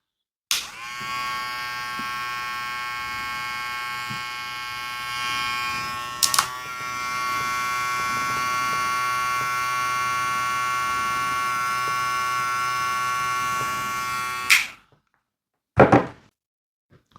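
A KEMEI KM 1856 electric hair clipper buzzes steadily and loudly for about fourteen seconds with a brief blip partway through, then cuts off, followed by a short clunk.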